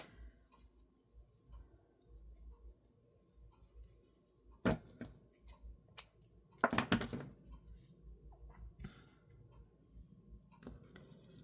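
Scissors cutting a wrinkled strip off Halloween die-cut paper craft pieces, a few close crisp snips and crinkles, with one louder cluster of cuts and rustling partway through, no talking.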